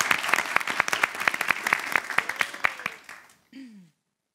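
An audience claps at a comedy quiz evening, a brisk run of sharp, distinct handclaps that stops abruptly, followed by a short spoken word.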